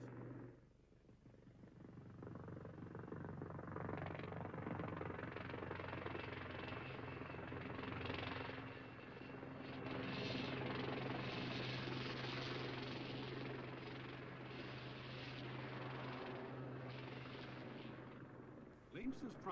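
A Lynx military anti-tank helicopter flies with a loud, continuous rotor and turbine drone that holds steady throughout, swelling slightly in the middle and fading near the end, with nothing else heard.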